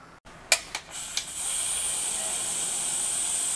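A pressure cooker cooking meat releases its steam: a few short hissing bursts give way to a steady, loud, continuous hiss that carries on to the end.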